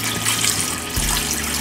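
Cold tap water runs steadily over rice being rinsed, a continuous close rushing splash with no voices.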